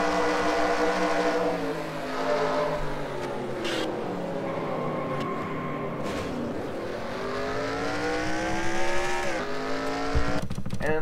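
Onboard race car engine in a NASCAR-style racing video game, a loud steady multi-harmonic drone that rises and falls with throttle, with a brief shift and rumble near the end.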